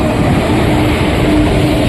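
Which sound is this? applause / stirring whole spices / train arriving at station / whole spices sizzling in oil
train arriving at station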